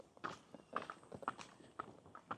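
Horse hooves walk on a city street in Austin, giving a steady, faint clip-clop with evenly spaced hoof strikes about half a second apart over quiet outdoor background.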